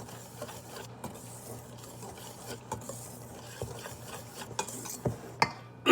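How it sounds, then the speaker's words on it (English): Dry waffle ingredients, flour with salt and other dry ingredients, whisked together in a bowl, a soft continuous scraping stir with light irregular clinks of the whisk against the bowl, close and quiet. "Whisking the dry ingredients together."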